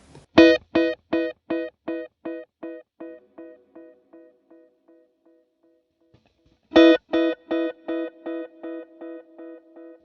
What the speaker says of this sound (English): so this is a single delay line